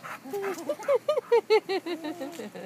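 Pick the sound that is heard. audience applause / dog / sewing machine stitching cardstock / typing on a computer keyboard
dog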